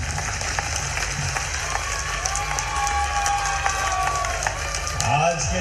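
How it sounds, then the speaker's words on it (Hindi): Audience applause and cheering from a crowd at a mass wedding ceremony in Indore, a steady dense wash of clapping throughout with a busy, noisy background. "अभिनंदन का आप जोर से ताली बजाओ"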